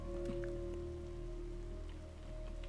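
Rain in the Roblox game Daycare 2 falls as a soft, steady patter over a low hum, with faint scattered drops and no speech.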